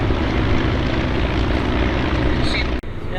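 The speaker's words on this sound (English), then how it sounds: "Here come the bombers forming into a Vic formation, a V formation." Antique biplane bombers fly past in a V formation at an aerodrome airshow, a broad, steady propeller-engine drone filling the air before cutting off abruptly near the end, with a voice talking over it.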